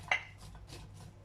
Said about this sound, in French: Je mets les oignons